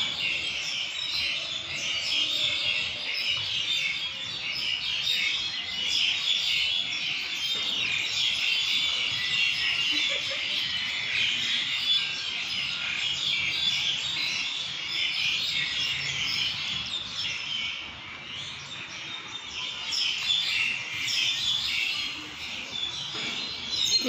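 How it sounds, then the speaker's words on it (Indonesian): Dense chorus of many birds chirping and twittering in a Hong Kong park, a steady bright chatter heard from nearby and at a distance, continuous throughout with no voices. "Mendengarkan kicauan burung,"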